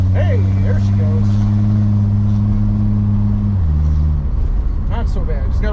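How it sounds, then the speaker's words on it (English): A 1965 AMC Rambler American 440 runs while driving with a strong, close engine drone. Its pitch holds steady and then steps down as it slows, with faint scattered chirps and light noise over the top. "my car sounds like it's about to conk out"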